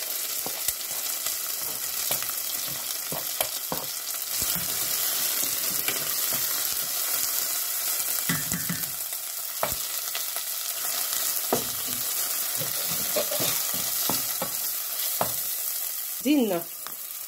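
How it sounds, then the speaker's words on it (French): Tomato double concentrate, mackerel fillet and other ingredients being stirred in a frying pan, with a steady sizzle under repeated scraping and clinking strokes of a utensil, some bursts louder and close. "Je remue et je rajoute tous les autres ingrédients."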